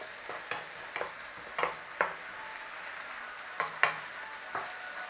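Savoury meat sauce for coney dogs cooks under a soft, steady sizzle while a spoon stirs it in quick scraping strokes, several distinct clicks and scrapes spaced irregularly, close by and fairly quiet.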